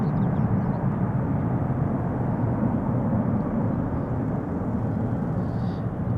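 A jet airliner climbs away after departing Amsterdam Schiphol Airport, its engines giving a steady, loud broadband roar that holds evenly for several seconds with no talking.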